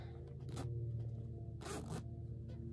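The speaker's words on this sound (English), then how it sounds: "zip it up" Zipper pulled up on a sewn 1930s-style pantsuit, two quick bright zipping strokes close by over a steady low hum, with no talking.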